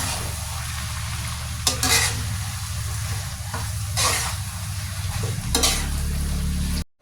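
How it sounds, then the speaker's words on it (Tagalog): Bitter gourd cooking with scrambled egg in a pan gives a loud, steady sizzle and simmer close up, broken by a few brief scraping bursts from a utensil. "Hayaan lang natin na kumulo na kahit mga ilang minuto lang at saka natin ito haluin uli."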